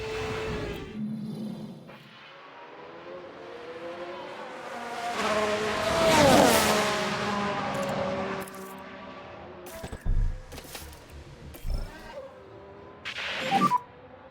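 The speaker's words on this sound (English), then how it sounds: "Sounds like we've had a spin." A Ferrari Formula 1 car in F1 Manager 2022 spins out, its loud engine note swooping up and down in pitch, with brief tire squeal and skidding noise followed by further engine bursts.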